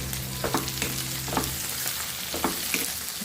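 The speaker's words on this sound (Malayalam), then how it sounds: "കുറച്ച് കറിവേപ്പിലയും കൂടിയാണ് ചേർത്തിട്ടൊന്ന് വഴറ്റാം." Split green chilies and curry leaves sauté in hot oil for an onion theeyal, giving a steady close sizzle with several scraping spatula strokes spaced through it and no voices.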